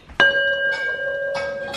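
A gong for gong baths, bought as a gift for a basement yoga studio, struck once with a sharp attack and a long sustained shimmering ring that swells again near the end, close and fairly loud, with no talk.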